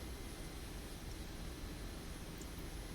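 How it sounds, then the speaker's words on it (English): Helicopter in a flight simulator video game, heard from the cockpit as a steady, broadband rotor and engine roar that stays constant and fills the whole stretch without voices. "now the helicopter flies more like an aircraft"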